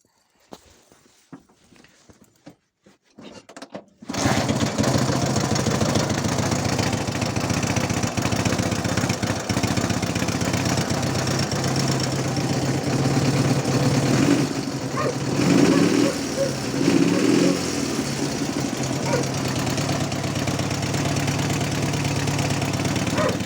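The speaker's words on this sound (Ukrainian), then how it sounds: "Мій мотоцикл МТ-11 вже більш-менш на ходу." A Dnipro MT-11 motorcycle engine starts after a few seconds of near quiet and then runs continuously and loudly close by, its uneven idle pointing to carburettors still needing adjustment.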